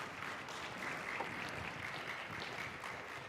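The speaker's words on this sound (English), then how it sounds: "go ahead and clap too" Audience applause after a talk at a live-streamed event, a steady broadband wash of clapping held at a fairly even, moderate level for the whole stretch, with no voices on top.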